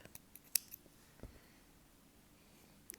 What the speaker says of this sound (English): a snip.